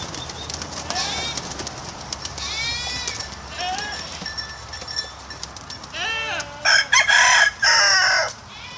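Chickens and a rooster at dawn, about quarter past six: a rooster crows repeatedly with loud crows close by near the end, while hens cluck and call throughout.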